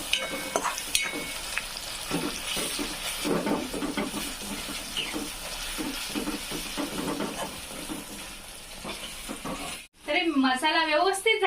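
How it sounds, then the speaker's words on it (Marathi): Tomatoes cook in hot oil for a green moong pod curry, with a steady sizzle and repeated scraping stirs close by; the frying cuts off near the end and a different sound follows. "तेलात मी तर टमाटर टाकलं ते पण व्यवस्थित होऊ द्यायचं"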